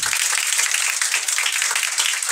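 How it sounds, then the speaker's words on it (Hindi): Audience claps as a medal is placed on a student at a Class 10 farewell ceremony in Bihar, a dense, steady patter of hands holding for a couple of seconds. "चलिए जैसे ही मेडल पहनेंगे तालियों की गड़गड़ाहट होनी चाहिए।"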